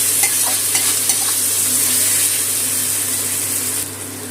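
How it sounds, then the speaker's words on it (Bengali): Spice paste sautéing in a pan for a fish-head and taro-stolon curry, a loud, bright, steady sizzle with faint spatula taps early on, easing slightly at the end. "মশলাটা ভালো করে কষিয়ে নিচ্ছি।"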